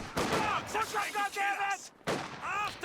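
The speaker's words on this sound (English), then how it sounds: "goes for a drop off behind the machine gun" Gunfire rattles through a Company of Heroes 2 2v2 battle with a Universal Carrier, Grenadiers and Pathfinders, as repeated shots sit beneath steady, loud commentary from a man for nearly three seconds.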